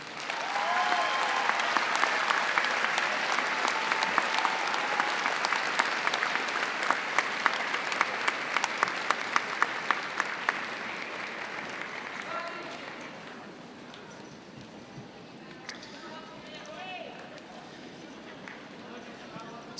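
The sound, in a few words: graduation audience applauding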